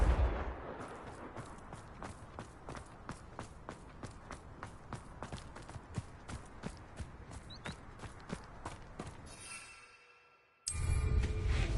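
A Confringo spell blast in a video game: a steady run of rhythmic thuds fades to near silence, then a sudden loud, broad burst erupts and holds at the end.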